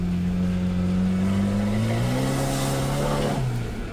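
A car engine revs hard on a race track, loud and close, rising steadily in pitch as it accelerates and then easing off near the end.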